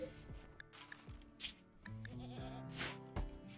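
A goat in the game RimWorld bleats several times in quick succession, wavering nasal cries over a quiet tonal background.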